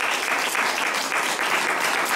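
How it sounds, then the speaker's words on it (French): Audience applause fills a restaurant at a homeless-solidarity evening, dense, steady clapping from a crowd throughout, close and loud with no pauses. "Je voulais que vous puissiez vous applaudir parce qu'on ne peut rien faire sans vous."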